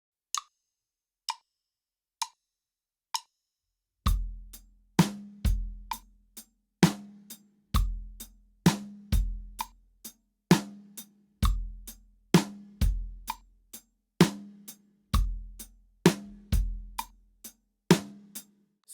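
Full drum groove on bass drum, snare and hi-hat, opening with four sharp count-in clicks, then a steady repeating pattern of thumping kicks, snare cracks and ticking hats, close and unaccompanied.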